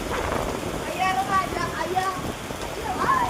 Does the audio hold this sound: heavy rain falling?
yes